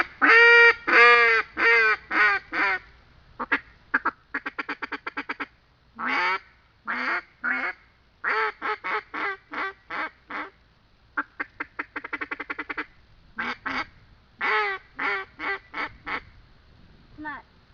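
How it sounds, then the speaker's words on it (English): Echo polycarbonate single reed duck call blown in a series of loud, close quacks, from drawn-out hail notes to rapid staccato feeding chatter, in bursts separated by short pauses. "Next I got the Echo Calls. The polycarbonate single reed duck call."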